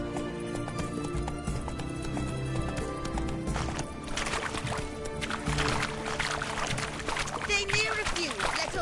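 Roach, a horse in The Witcher 3, gallops with rapid, dense clip-clop hoofbeats, layered under in-game voices, music and ambient sound, with a brief whinny-like tone near the end.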